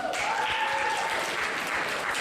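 A school audience at the Fridley High School 2016 scholastic awards applauds after a senior athlete's name is called, the clapping coming in full and steady after a brief voice at the start.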